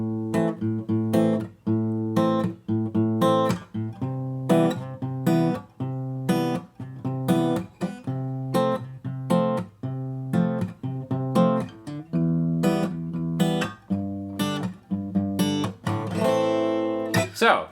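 Acoustic guitar strumming easy open chords of a song, steady rhythmic strums with ringing chords, close and clear, played alone.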